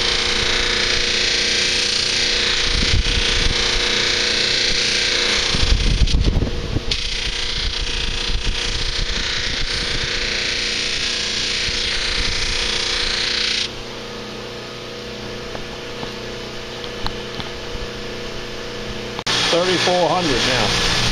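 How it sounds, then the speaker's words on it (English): A big buffing wheel charged with finer grit compound runs against a knife blade, a steady loud whirring roar with a drop in pitch and level partway through as pressure changes. "It's a big buffer. With a finer grit compound."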